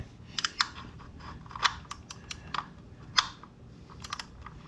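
An oil drain plug on a car is tightened until snug during an oil change, producing a series of sharp, close metallic clicks at an irregular rhythm, fairly quiet.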